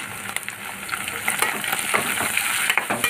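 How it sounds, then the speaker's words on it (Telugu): Chopped onions go into a pan of dry prawns for an Andhra-style gongura curry. A loud, continuous oil sizzle crackles throughout, with stirring scrapes mixed in. "ఈ రొయ్యలు బాగా వేగినాయి ఫ్రెండ్స్ ఎర్రగా వచ్చేస్తాం ఇప్పుడు ఉల్లిపాయ వేసేద్దాం"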